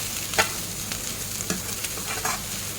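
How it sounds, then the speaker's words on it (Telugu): Spices and dill leaves frying in a pan, a continuous bright sizzle broken by a few sharp spatula scrapes and taps as the mixture is stirred, heard up close with no voices. "దీన్ని వేసి అంతా బాగా కలుపుకుంటూ ఫ్రై చేసుకోవాలి"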